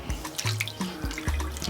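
Tap water runs and splashes in a washroom while a girl's hair is being rinsed, with close, uneven pouring and gurgling and no talk.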